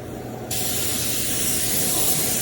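Spray gun laying blueberry candy paint on a 1984 Chevrolet C10 starts abruptly with a loud, steady hiss of atomized paint that continues evenly to the end.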